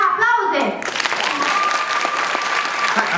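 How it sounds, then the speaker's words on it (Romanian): An audience breaks into loud, dense applause. Raised voices and cheering ring over the start, then steady, sustained clapping fills the rest close up. "aplauze!"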